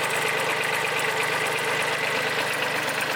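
A Kubota compact tractor engine idling steadily at close range, a continuous rough mechanical rumble with a faint knocking pulse and no pauses.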